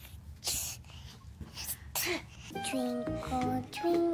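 A woman gives a couple of loud, sharp sneezes while playing with a small child, followed by a bright, tinkling tune.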